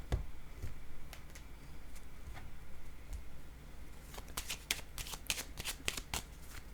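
Playing cards are handled and laid down on a table, making soft papery slides followed by a quick cluster of sharp snaps and taps near the end, close and fairly quiet with no talk.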